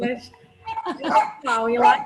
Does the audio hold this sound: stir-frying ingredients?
no